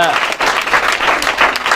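Audience at a school honors ceremony for 12th-grade students applauding for a student, a dense, steady burst of clapping from many hands filling the whole brief moment.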